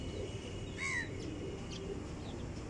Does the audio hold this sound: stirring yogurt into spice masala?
no